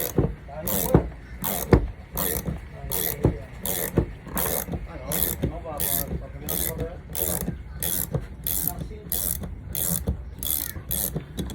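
A hand ratchet clicks in quick, steady repeated strokes while tightening on the bearing of a Northern Lights 12 kW generator's raw water pump during a rebuild aboard a Nordhavn 46 boat, close and loud with no talking.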